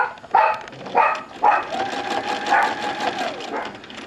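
A sewing machine stitches a feathered border in free motion quilting, starting with three short whirring bursts before settling into a continuous, close mechanical hum.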